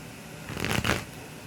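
A deck of tarot cards shuffled once, a short, close riffle burst of flicking card edges rising and fading within about a second, over a faint room background.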